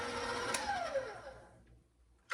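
Electric stand mixer whirring through thick peanut butter dough, a steady motor drone with a pitch that sags under load before winding down, then a brief louder burst at the very end.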